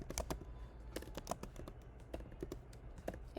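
Rapid key presses on a computer keyboard while entering a book title into a web app, irregular clicks and taps in short bursts, close and fairly quiet with no talking.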